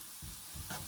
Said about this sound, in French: la julienne de légumes, on la fait juste un peu revenir avec les oignons et le bacon